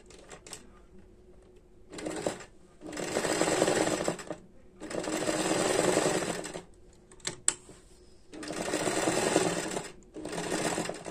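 Janome 802 sewing machine running a fixed-width zigzag stitch to embroider around a flower, heard as four loud bursts of rapid mechanical whirring separated by short pauses, with a few faint clicks in the gaps.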